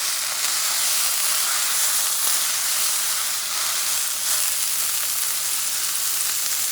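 A lean camel-meat burger patty fries in a pan over medium-high heat, giving a steady, close, continuous sizzle and hiss with no pauses and no talking.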